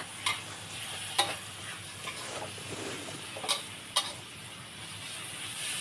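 Fresh pork stir-fried in a pan, with a steady close sizzle and frying hiss plus a few sharp clinks and scrapes of stirring, no talk.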